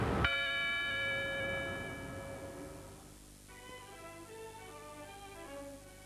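Carillon bells in Buenos Aires, rung by hammers driven by electromagnets, strike one loud opening note that rings on with long, sustained overtones, followed by softer, fainter bell tones that decay gradually.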